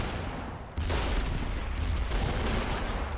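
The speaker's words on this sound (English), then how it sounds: "2 or 3 mortars are hitting us and constantly" Mortar fire pounds troops in Men of War: Assault Squad 2, a sudden heavy blast at under a second followed by dense, continuous rumbling impacts and gunfire that stay loud throughout.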